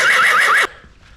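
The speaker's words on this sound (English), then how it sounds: "I've just passed a sign that says equestrian centre." A horse near an equestrian centre along the Yorkshire Wolds Way gives a loud, shrill, quavering whinny that cuts off abruptly into quiet outdoor ambience.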